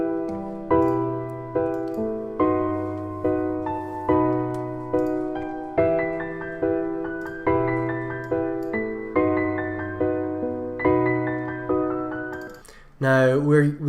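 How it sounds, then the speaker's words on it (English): Piano chords of White Wedding play back from a MIDI file, a steady rhythmic progression of struck chords with regular attacks and decays, ending in a brief burst of other sound. "And this is the white wedding chords,"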